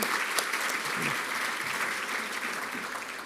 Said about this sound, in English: let's hold the applause till the end